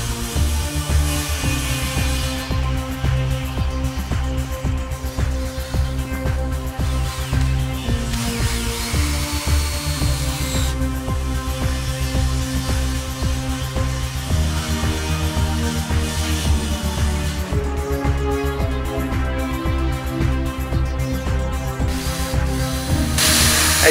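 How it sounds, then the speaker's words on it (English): A power tool drives screws into plywood on a roof under repair, running as a steady, continuous mechanical whir with grinding, ratcheting edges and short pauses between screws, close and loud. "Tony, how come we use so many screws in these plywoods?"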